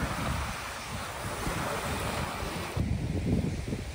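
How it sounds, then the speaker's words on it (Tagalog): Strong waves roll onto a lake beach at Sandpiper Beach in St. Laurent, Manitoba, a steady, rushing surf with heavy wind buffeting the microphone and a louder surge of water near the end. "Malakas pa rin ang alon guys."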